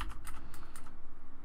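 Quick, even keystrokes on a computer keyboard as a command is entered, a close, soft run of clicks in a steady rhythm with no talking.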